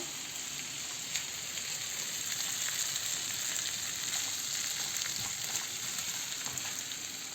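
Sucuk, kaşar cheese and eggs fry in a pan, a soft, even sizzle with scattered small pops continuing throughout, no talking.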